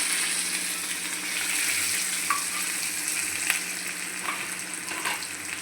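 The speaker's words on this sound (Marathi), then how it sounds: "कढीपत्ता घालून झालं की आपण लगेच हे वाटण जे केलेलं आहे ते पण तेलात घालून घेऊ." Curry leaves and ground masala paste fry steadily in hot oil, a continuous close sizzle with faint crackles and a few soft pops, no voices.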